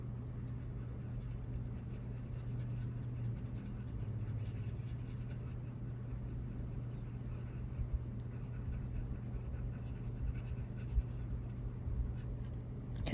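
A pencil drawing small circles very lightly on paper, a faint continuous scratching barely above a low steady room hum, with no talking.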